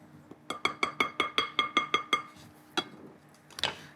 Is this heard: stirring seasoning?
yes